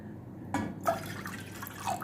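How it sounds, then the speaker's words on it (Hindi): Water being poured into a cooking pan on an unlit stove to start a tamarind chutney, heard as short splashing and dripping bursts, close and fairly quiet, with no talking. "इसके लिए सबसे पहले हम एक पैन लेंगे, इसमें ऐड करेंगे 2 कप पानी"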